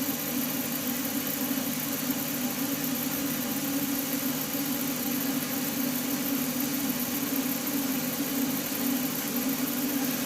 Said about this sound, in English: I'm working the mop with the buffing compound up and down the length of the handle